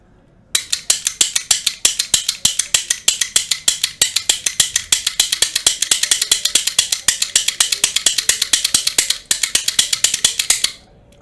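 A lock pick gun snaps rapidly against a pin tumbler lock, a fast, even train of sharp metallic clicks running for about ten seconds up close before stopping abruptly, with no one talking.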